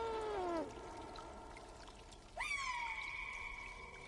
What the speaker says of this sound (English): the little other cats meowing for him